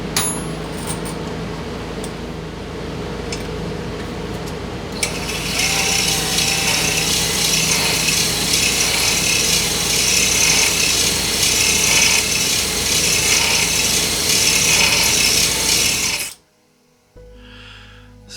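Harsh, continuous power-tool whir with scraping abrasion as a hone works inside a lubricated Arctic Cat 650 H1 ATV engine cylinder, starting partway in and cutting off abruptly near the end.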